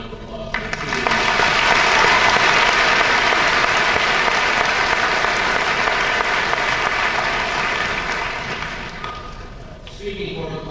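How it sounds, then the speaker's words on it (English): Sustained applause from a large high school graduation audience, swelling quickly, holding strong for several seconds, then tapering off as the clapping thins. "Let's have another round of applause."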